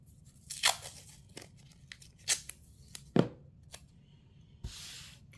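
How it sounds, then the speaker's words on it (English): Masking tape ripped off the roll in several short, sharp bursts while taping the edges of an ornament painting surface down to a tabletop, close and crisp against a quiet room with no talking. "So I'm just going to tape up the edges here."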